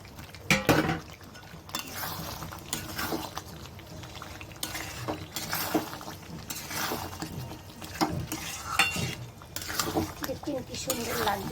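Chicken pieces, about a kilo of meat for butter chicken, being stirred in a cooking pot, with intermittent metallic clinks of a utensil against the pot and a wet, bubbling sizzle under steady talking.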